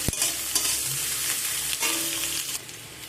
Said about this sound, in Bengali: হালকা করে এটাকে আমি ভাজা করবো পেঁয়াজটাকে বেশি ভাজা করব না